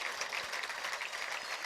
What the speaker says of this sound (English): Warm applause from the crowd.